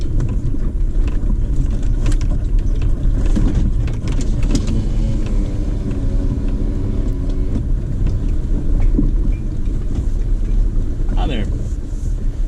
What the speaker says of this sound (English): We got a group of Jeeps up here.